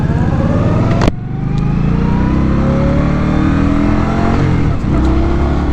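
A 2020 Indian Scout Bobber Twenty motorcycle revs up and accelerates hard, its engine note climbing steadily and loud and close after a brief gear-shift dip, with no talking.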